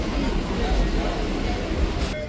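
A local train runs between Madhyamgram and Majherhat, its steady loud rumble and rattle filling the ride with no break.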